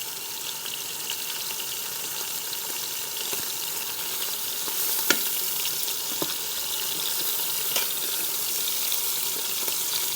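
Short ribs searing in an Instant Pot, a continuous even hiss of frying fat close up, with a few faint clicks and one sharp tap partway through.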